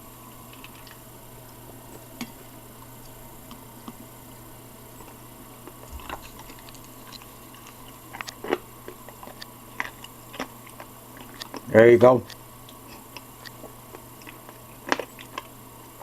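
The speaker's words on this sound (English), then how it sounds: "Now I'm going to take a bite of it" Someone bites into a veggie meat bone, giving a short, close crunching burst amid faint scattered clicks, with a brief remark spoken shortly before.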